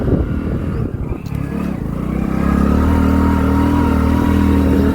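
A motorbike climbs the road toward a hilltop temple and dargah site, its engine close and steady, rising into a sustained, louder drone after a rough, clattering start.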